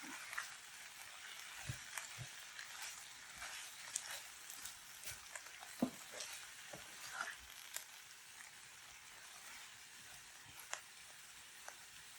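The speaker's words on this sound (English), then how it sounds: "I'm going to give this a toss. I just want to wilt down this spinach." Spinach tossed and wilting in a hot pan for a vegetable frittata, a faint steady sizzle broken by soft scattered stirring knocks, with no talking.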